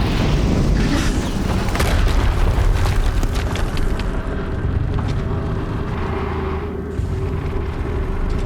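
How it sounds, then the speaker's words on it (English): A sustained, loud explosion rumble in the Horizon Zero Dawn video game, with heavy low booming and crackling debris that rolls on continuously for several seconds. "Another explosion."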